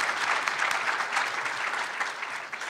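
Steady audience applause at a public education forum on neighborhood and charter schools, a dense, even wash of many hands clapping that holds at moderate level throughout.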